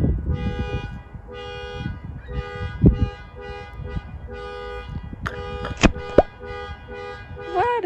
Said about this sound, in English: Somebody's alarm.